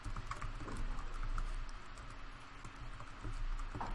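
Soft typing on a computer keyboard, scattered light key clicks half-buried in a steady background hum and room noise, fairly quiet and close.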